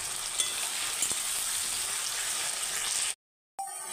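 Chicken, potato and spinach paste sizzling and frying in a pan while being stirred, a steady bright hiss lasting about three seconds before a sudden cut to near silence, then the sizzle returns briefly.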